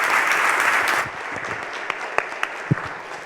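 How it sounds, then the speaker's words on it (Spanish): Audience applause at a forum session, a loud wash of clapping that fades out after about a second and leaves a few scattered claps and faint room noise. "Me gustaría que le dieran un aplauso a Diego."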